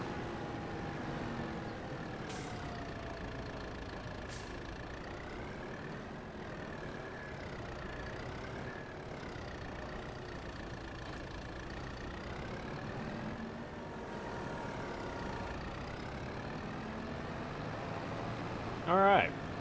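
Kubota tractor in Farming Simulator 22 idling, a steady low engine drone with faint wavering tones, moderately quiet and continuous throughout.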